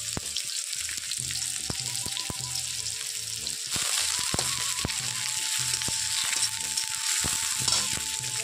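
Bay leaves and whole garam masala fry in hot oil for an egg omelette curry, producing a steady close sizzle with occasional light clinks and stirs, the crackle swelling louder midway.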